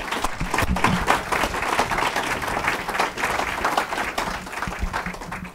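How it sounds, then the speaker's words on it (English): A debate audience breaks into a sustained round of applause. The dense clapping stays fairly loud and then thins slightly toward the end. "Yes, a round of applause."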